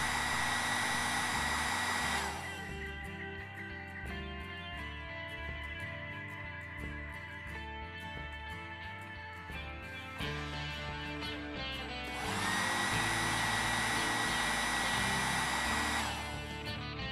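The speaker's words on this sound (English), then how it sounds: "Apply heat to the material to allow it to easily conform to the edges of the mag." A heat gun blows hot air onto an AR-15 magazine skin, a steady close airy roar that dips quieter midway with some handling noise, then surges back up near the end.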